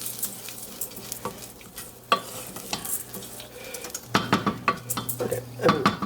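Long grain white rice frying in vegetable oil in a pan, with a steady sizzle under repeated scraping and clinking strokes of a stirring utensil that grow busier toward the end, with no talk.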